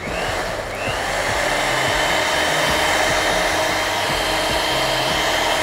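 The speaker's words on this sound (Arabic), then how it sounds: "واحنا هنا بنضرب لحد ما انا عايز قوام شبه الويب كريم او شبه كريمة الخفق" An electric mixer whips a dalgona cocoa mixture toward a whipped-cream consistency, giving off a loud, steady, close whirring motor drone that runs unbroken with no talk.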